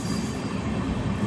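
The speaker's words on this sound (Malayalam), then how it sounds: "കണ്ണൂർ റെയിൽവേ സ്റ്റേഷനിലെ 3-ാം നമ്പർ പ്ലാറ്റ്ഫോമിലേക്കാണ് ട്രെയിൻ വരുന്നത്." Mangaluru–Rameswaram Express pulling into a platform at Kannur railway station, a steady rolling rumble of train wheels with a faint squeal, continuous and moderately near.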